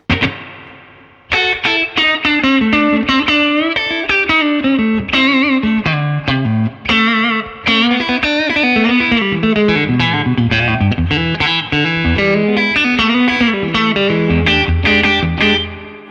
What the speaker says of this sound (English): Definitely got that kind of silvery neck pickup Strat tone